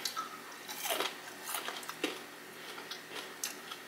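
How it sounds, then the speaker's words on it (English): Crunchy bites into Flamin' Hot fried pickles, several sharp crisp crunches in an irregular chewing rhythm, close to the microphone and fairly quiet, with no talking. "The crunch on that one."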